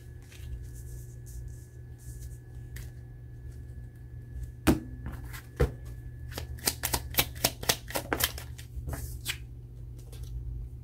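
A deck of tarot cards being shuffled by hand up close, with a few sharp snaps followed by a rapid run of riffling clicks over a low steady hum.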